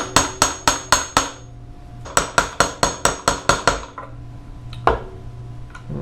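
A new fork seal on a 2014 Yamaha TTR 125 motorcycle being tapped into place with a socket and hammer: sharp metallic knocks in an evenly spaced burst of five, a pause, a run of eight, then two scattered taps.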